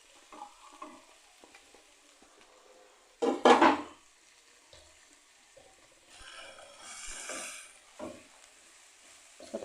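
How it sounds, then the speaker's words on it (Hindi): Carrot and capsicum fry in a pan, a soft steady sizzle broken by a loud scrape and stir, then further stirring and clinks of the utensil. "फ्राई कर रहे हैं हम इन सब चीज़ों को, ये देखें।"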